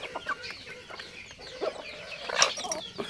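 Feather-footed cross-breed native chickens cluck softly in a farm yard, scattered quiet clucks and calls at some distance over a low, steady outdoor background.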